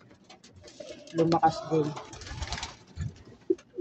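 Racing pigeons back from training at Pantabangan, Nueva Ecija, coo in soft, low bursts near the loft while someone talks over them.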